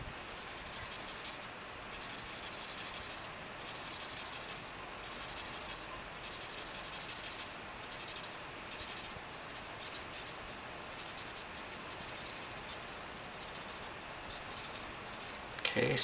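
Pencil shading back and forth to fill a poche on an architectural drawing, a close, steady scratchy rubbing in rhythmic strokes that keeps going throughout, with no talking.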